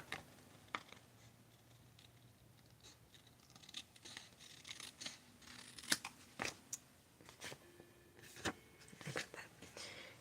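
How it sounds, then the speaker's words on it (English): Scissors cutting side pieces off paper card for a fold card, faint close snips and crisp crunching cuts scattered irregularly over a quiet background, growing more frequent toward the end. "So what I'm going to do is I'll cut the side pieces off."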